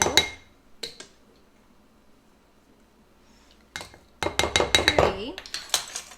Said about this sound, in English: We're just going to add 3 tablespoons of flour.